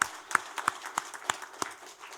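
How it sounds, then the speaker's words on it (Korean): A church congregation claps together in a steady, quick rhythm of sharp, distinct claps at moderate distance, with no voices over them. "우리 박수를 하나님께 영광 한번 드립니다."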